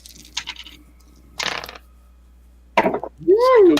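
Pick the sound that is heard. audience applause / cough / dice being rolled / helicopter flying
dice being rolled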